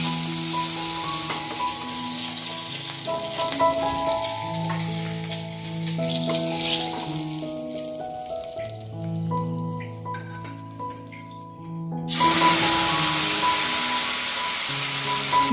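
Cleaned giant freshwater prawn frying in hot oil, giving a steady, close sizzle that continues under background music.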